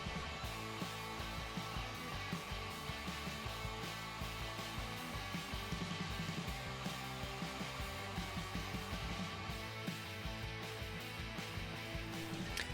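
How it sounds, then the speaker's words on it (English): A shop vac with a crevice tool runs during CNC machining, giving a steady whooshing suction roar with a faint rhythmic cutting texture underneath, moderately quiet and continuous throughout. "I use a crevice tool on my shop vac to capture the dust"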